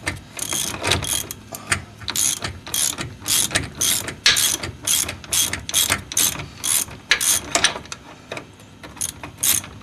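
A ratchet wrench clicks in quick bursts of rapid pawl ratcheting, close and loud, separated by short pauses, as it removes a 17 mm steering shock bolt on a Mercedes 300D front end; no talk.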